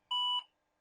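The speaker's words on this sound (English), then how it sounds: "Just beeped a couple times." A single short electronic beep from an IBM PS/2 Model 50Z computer after repair, a clean steady tone lasting about a third of a second with a brief tail, loud and alone against silence.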